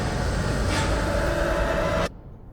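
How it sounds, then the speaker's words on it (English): Train rumbling loudly on the tracks at close range, a dense steady roar that holds at full level and then cuts off abruptly. "The train is getting louder."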